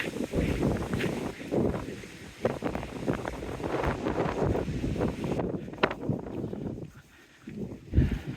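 Strong wind buffeting a microphone outdoors near Dawlish, a loud continuous rumbling roar with gusts, briefly dropping away near the end before surging back.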